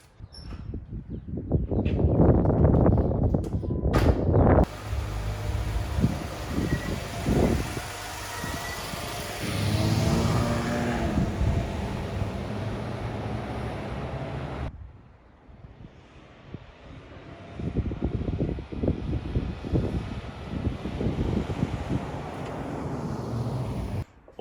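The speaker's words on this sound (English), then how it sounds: "Let's take it for a test drive." An overland vehicle drives on a test run after a wheel hub repair, with road and engine noise and wind buffeting that surge and drop. A few clunks and knocks come early, and the cabin rumble quiets partway through.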